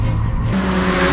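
A Renault Clio roars past at speed on a race track with a steady engine drone and a brief tire screech, loud and close, with no voices.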